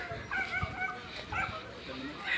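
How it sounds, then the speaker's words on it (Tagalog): A dog at a rural crossing gives a few short, faint yips and whimpering barks, mixed in with nearby talking voices. "Yan, may aso"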